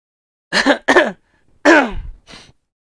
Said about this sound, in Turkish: İnsanın öksüresi geliyor böyle haberlere